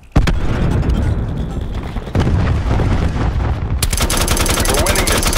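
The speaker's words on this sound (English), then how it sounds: "Cluster grenade. Enjoy." Dense, loud game combat from Call of Duty: Black Ops 4 with a cluster grenade detonating: a sharp blast opens a continuous roar of rapid explosions and gunfire, with a second surge near the end.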